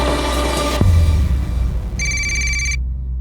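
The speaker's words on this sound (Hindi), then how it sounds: "घंटी की आवाज आ रही है अंदर से, फोन तुम्हारा है?" A telephone rings inside a house, its electronic ringtone playing as a steady, bright repeated tone in the background and then stopping abruptly, with low rumbling room noise throughout.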